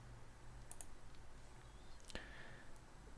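A single sharp computer mouse click sounds up close, with a few faint ticks before it against a quiet room hiss.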